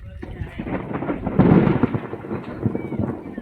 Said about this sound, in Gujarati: ગાજવાનું કામ ચાલુ થઈ ગયું